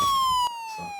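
A police siren wails in the Squid Game video game, one steady descending electronic tone that carries on through the whole moment.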